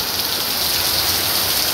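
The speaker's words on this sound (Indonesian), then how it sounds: "Wah, hujan" Heavy rain pours down steadily as a dense, continuous hiss close by, with no breaks and no voices.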